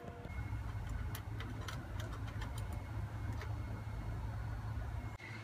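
A gasoline-powered children's jeep with a 7 hp, 110 cc engine runs steadily at idle, a continuous low drone overlaid with faint rapid ticking, close by and without speech.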